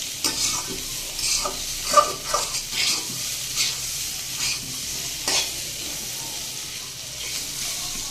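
Taro root frying in a pan while being stirred, a close, steady sizzle broken by repeated scraping strokes of the spoon against the pan, with no talking.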